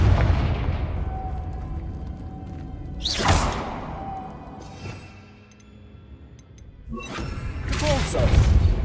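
Confringo blasting-spell explosions in the video game Hogwarts Legacy: loud whooshing bursts and booms go off in separate waves, with a quieter, rumbling lull between them.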